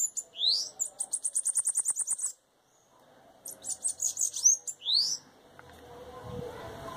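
A caged sibite bird sings close by: sharp rapid trills and bright whistled chirps in two bursts separated by a short pause, with faint handling noise at the end.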